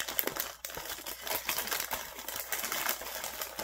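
A package is pried open with keys, giving close, quiet scraping, clicking and crinkling of plastic and wrapping in irregular bursts, with no talk.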